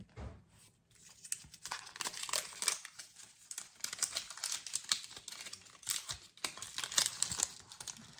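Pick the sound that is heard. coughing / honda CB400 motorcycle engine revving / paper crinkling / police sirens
paper crinkling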